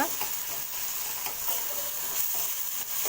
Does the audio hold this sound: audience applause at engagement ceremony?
no